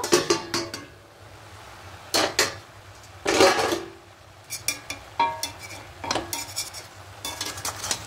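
Spinach being stirred in a pan after the lid comes off, heard as intermittent scraping and clinking of a utensil against the metal in short bursts, close and alone with no talk.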